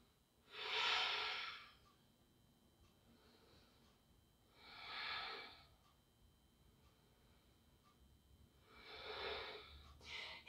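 Slow, audible breaths during a vigorous vinyasa flow yoga practice at home, three soft rushing swells spaced about four seconds apart over a low background hiss.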